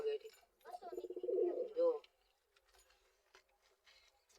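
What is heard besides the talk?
pigeons cooing in a coop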